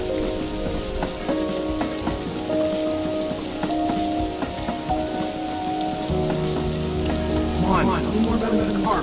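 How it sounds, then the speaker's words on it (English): Rain falls steadily in the video game Know by Heart, a dense, even hiss of drops on surfaces that runs throughout with faint tonal game sounds layered over it. "we stand in the rain."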